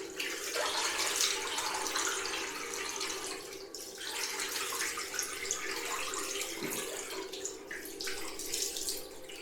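Cold water runs steadily from a bathroom tap into a sink after a wet shave, a continuous close hiss and splash with slight changes in flow and no voices.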